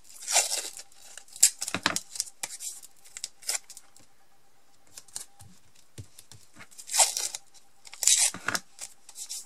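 Painter's masking tape is handled and peeled during card-making with a stencil, heard as scattered close crackles, rips and crinkles in irregular bursts with quiet gaps between them.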